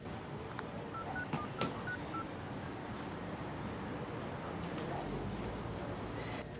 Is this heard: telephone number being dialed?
yes